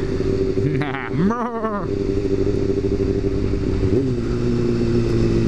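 A motorcycle passes on a road, its engine rising and falling in pitch as it goes by close to a moving car, heard over steady road rumble without speech.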